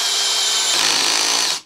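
Parkside Performance PBSPA 12 C3 cordless drill driver running steadily at high speed, a continuous loud whirring buzz heard close up and alone, cutting off abruptly at the end.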